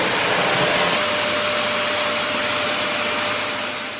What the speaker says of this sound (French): Ça, l'aspirateur, c'est un truc que j'ai trouvé en surfant sur internet.